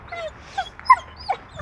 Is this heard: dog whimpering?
yes